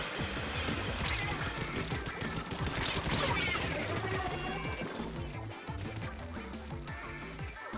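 Ink weapons firing in a Splatoon 3 Splatfest match, a busy, constant stream of rapid splattering shots and impacts layered over game music, close and loud throughout.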